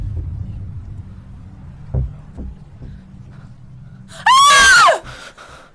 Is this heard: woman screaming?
yes